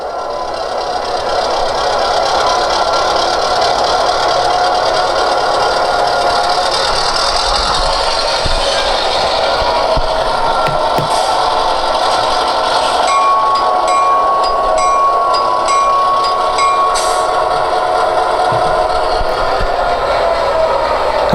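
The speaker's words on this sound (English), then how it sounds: "That's definitely an EMD 567 prime mover." An EMD 567 prime mover sound plays from the DCC decoder speaker of a Walthers Mainline GP9 model locomotive: a steady, loud diesel drone and rattle that runs unbroken the whole time with no talking.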